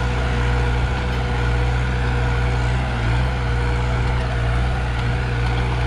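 A New Holland 5630 4WD tractor engine running steadily in a village, a loud, continuous low diesel drone with a deep constant hum and rough mechanical texture, unbroken and close by.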